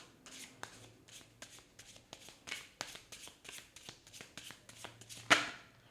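A deck of tarot-style cards is shuffled close by in a series of quick riffles and soft slaps, some dozen brisk bursts in a row, ending with a sharper snap, with no talking.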